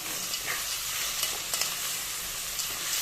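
Onion, tomatoes and peppers fry in a pan for pasta, giving a steady, close, dense sizzle with faint crackles and light stirring, without speech.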